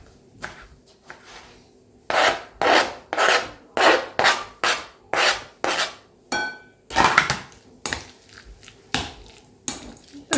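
Mushroom and egg filling with mayonnaise and chives being stirred in a bowl, a steady series of about a dozen close, rasping scrapes of a utensil against the dish in a regular rhythm, no talking.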